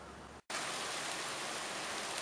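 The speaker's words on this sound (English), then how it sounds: "it has started to rain on me" Steady rain falling, a dense hiss of drops hitting surfaces close by, loud and constant after a brief dip at the start.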